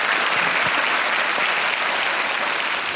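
Studio audience applause on a Hindi TV quiz show, Kaun Banega Crorepati, welcoming a contestant: dense, steady clapping from a large crowd, loud and continuous throughout with no talk over it.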